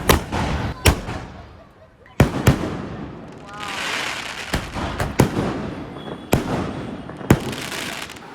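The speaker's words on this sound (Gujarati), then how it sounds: "ફટાકડાથી આતિશબાજી કરી રહ્યા છે." Fireworks burst outside a newly opening cafe in Ahmedabad, a series of sharp loud bangs at irregular intervals with crackling fizz between them, while voices chatter in the background.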